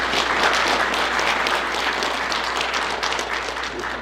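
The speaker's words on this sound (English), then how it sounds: "So if we could clap it up for them as well." Audience applauding the counseling staff at a high school football senior signing day, a loud, dense wash of clapping from a sizable crowd that holds steady throughout and tapers only slightly near the end.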